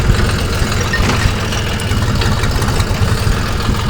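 A walk-behind tractor used as a strawberry row cultivator runs close by, its small engine idling in a steady, loud, low chugging drone throughout.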